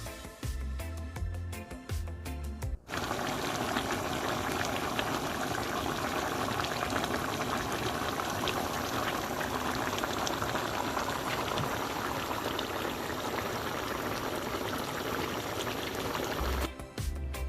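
Curry chicken foot gravy bubbles vigorously in an uncovered pot over raised heat, a dense steady boiling crackle framed by brief clattering at the start and end.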